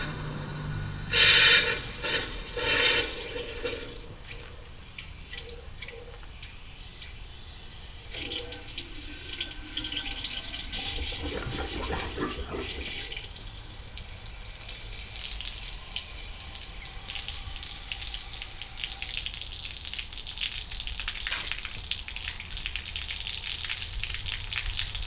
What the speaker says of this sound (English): I've got the cap off to flush out the bottom of the pump. We'll see what comes running out.